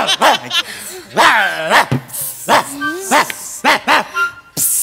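A performer on a comedy stage imitates a dog with a voice, a run of short, close, energetic barks and yips with whiny rising and falling tones, alone without other talk.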